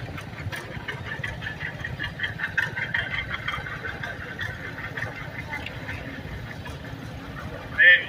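A 1930 John Deere Model D tractor engine runs steadily at an outdoor tractor expo, a continuous low mechanical drone with faint voices in the background.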